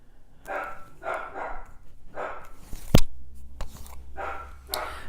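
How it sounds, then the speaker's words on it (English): A dog barks repeatedly in short, yappy bursts at close range, with a sharp click or knock in the middle. "Sorry, if y'all can hear Oscar, y'all know he's vocal after that live stream."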